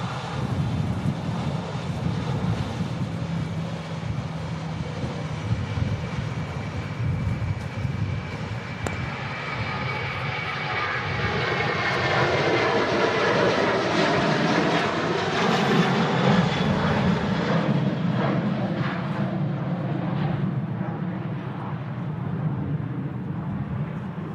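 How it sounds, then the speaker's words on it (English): A Jet2 Boeing 757-200 airliner fitted with winglets passes at Manchester Airport in strong crosswinds, its engines a loud, continuous roar that swells and rises in pitch midway before holding steady, heard without talk. "We got the Jet2 757 with the winglets."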